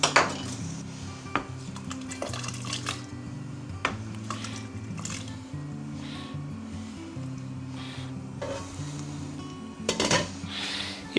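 Chopped tomatoes tipped into a soup pot for a sausage soup, with metallic clinks and clatters of dishes and utensils over a low hum, close by and without speech.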